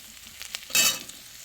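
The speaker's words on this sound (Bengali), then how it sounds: "মা কিন্তু তেলের মধ্যে মানে সর্ষের তেলের মধ্যে পেঁয়াজ রসুন আর আদা দিয়ে ভেজে নিচ্ছে" Onion, garlic and ginger frying in mustard oil give a steady close sizzle with stirring scrapes, swelling into a loud crackling burst midway before settling back to a low hiss.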